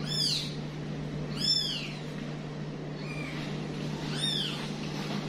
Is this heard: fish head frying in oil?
no